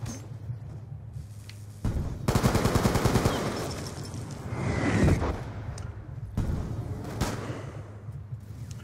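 Black Ops 2 gunfire fills the scene: dense, loud bursts of automatic rifle fire break out after a quieter stretch, with sharp single cracks and rattling volleys near and far, and no talking.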